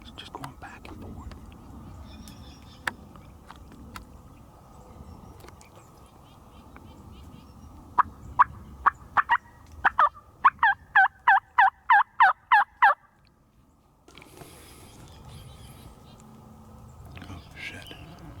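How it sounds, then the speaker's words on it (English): Wild Rio Grande turkey gobblers gobble in the South Texas brush, a rapid rattling burst of repeated gobbles rising in the middle, with hushed whispering voices nearby and quiet outdoor ambience. "It looks like two gobblers too."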